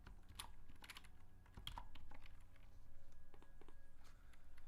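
Soft, rapid clicking of a computer keyboard while Chinese characters and Pinyin are typed, keystrokes arriving in quick uneven bursts at close range with no voices.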